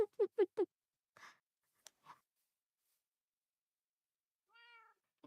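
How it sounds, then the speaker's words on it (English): A cat in an office meows once, softly, near the end, after a few sharp taps and brief rustles in an otherwise quiet room. "This is just a cat in my office."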